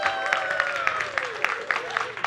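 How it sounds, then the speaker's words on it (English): Audience applause bursts out after a magic trick at a small comedy club, a steady wash of clapping with whoops and a performer's voice riding over it throughout. "A round of applause!"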